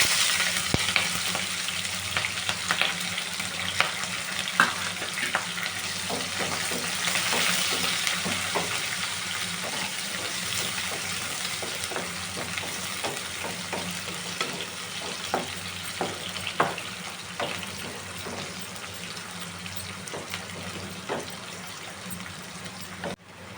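Onion and green chilli sizzling and frying in a pan for a Telugu brinjal curry, a steady crackling hiss with occasional stirring clicks and scrapes, close and continuous, no talking.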